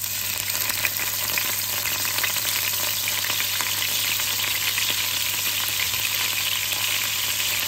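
Garlic and ginger sizzling and frying in a pan for a zucchini dish, a steady close crackle with faint stirring throughout and no talk.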